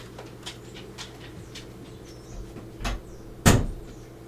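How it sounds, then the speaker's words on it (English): A door swings shut indoors with one sharp, solid thud near the end, after a few faint soft knocks and shuffles in a quiet room. "close the door"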